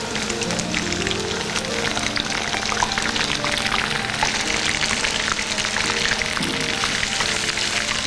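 Water poured into a hot cooking pan where cashews were frying gives a dense, continuous splashing hiss, close and loud, lasting several seconds with no talking.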